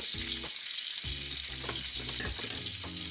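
Duck breast fries in a hot pan with a loud, close, continuous sizzle. Low thumps and scrapes come and go beneath it as the meat is moved around.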